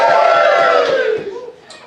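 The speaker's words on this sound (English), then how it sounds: "Give me a cheer for that." A live comedy audience cheers on cue, a loud burst of whoops and shouting from many voices that holds for over a second, then fades out quickly.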